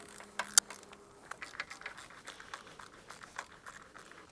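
Small metallic clicks and ratcheting taps as a Leatherman multitool works bolts loose from a toolbox mounted on a motorcycle, close and quiet, an irregular patter of light mechanical ticks with one sharper clack early on.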